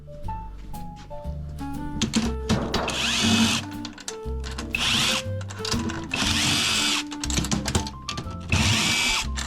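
Small electric screwdriver working on drum hardware, with repeated whirring bursts of the motor, clicks and thunks in between, close and fairly loud.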